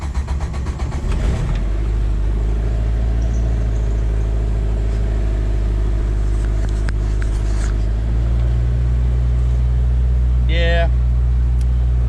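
A Jeep Wrangler engine idling with a steady low rumble that shifts slightly in pitch partway through, close by, with a voice speaking briefly over it.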